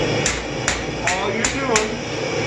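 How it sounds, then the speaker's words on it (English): A hammer strikes a hot knife tip on the edge of an anvil during forging. There are five bright, ringing metallic blows spaced evenly at about half-second intervals, close and loud over a low background hum. "set it down on the edge of your anvil, raise it to an angle, work this back down and in. And it doesn't have to be massive hammer swings."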